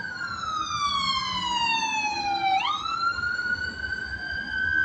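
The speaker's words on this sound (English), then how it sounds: "There goes the ambulance" An ambulance siren wails past, its pitch sliding down and then jumping as it goes by, over a low rumble of road traffic.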